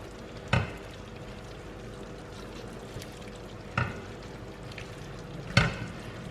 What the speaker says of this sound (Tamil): அதுக்கப்புறம் நம்ம குக் பண்ணி வச்சுருக்கிற பாஸ்தாவை போட்டுட்டு டாஸ் பண்ணிடுங்க